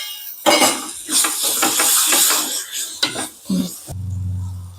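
Cleaned prawns tipped into a pan and sautéed with kasuri methi, with loud close clatters of a spoon against the pan over sizzling, then a brief low hum at the end.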